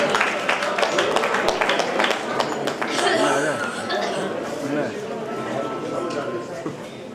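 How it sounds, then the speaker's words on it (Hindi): Audience applause at a Rotary award ceremony, a dense burst of clapping that gives way to an announcer talking over the fading crowd noise. "एक बार जोरदार तालियां बजाएं"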